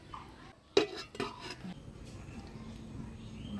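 A lid clatters onto a wok of boroli fish chorchori in a home kitchen: one sharp metallic clank, a softer knock just after, then a low steady cooking hiss.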